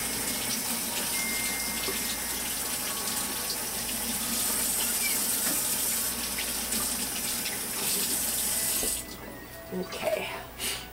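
Tap water runs steadily into a sink while a lobster pan is rinsed, a loud continuous splashing that stops near the end, followed by a few faint clinks.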